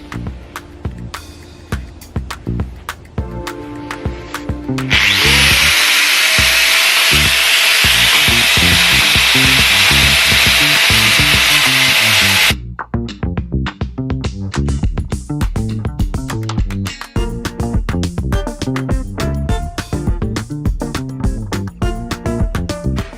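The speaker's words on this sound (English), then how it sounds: "just grind down all these protruding spot welding marks here, so it's just nice and flush" A power tool grinds down protruding spot weld marks on the bodywork of a crashed BMW M2 Competition, a loud continuous whine for about seven seconds, set between stretches of rattling, clattering workshop handling noise.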